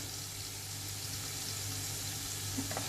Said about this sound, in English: and green chilies, and fry it for a minute. Add in some hing along with it